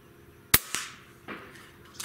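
A JTS Airacuda Max PCP air rifle fires a single sharp, loud crack at a shotgun shell target, followed by a quick metallic tap of the impact and a few faint clicks, with no talking.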